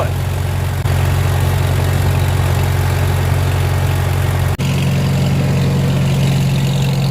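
An old Farmall M tractor engine idling steadily outdoors on a winter day, a loud low chugging throb that carries on with a brief shift in pitch partway through, no talking.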